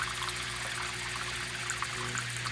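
Lead shot dripper letting molten lead fall in a steady stream of fine drops into a container of liquid, a continuous close trickling and splashing hiss with soft scattered plinks.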